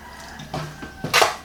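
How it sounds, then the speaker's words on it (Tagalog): Vinegar poured onto grilled beef skin: a short liquid splash and drip near the end, preceded by a few light clinks of a container, close and fairly quiet with no talking. "So ang gagawin natin, lalagyan na natin siya ng suka."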